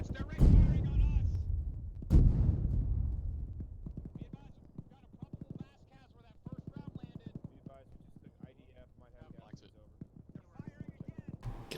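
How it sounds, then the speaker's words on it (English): Enemy mortar fire in a military tactical video game, two heavy booming impacts early on with long rumbling decay, followed by a rapid rattle of gunfire and scattered distant shots while players talk over radio. "Enemy mortars"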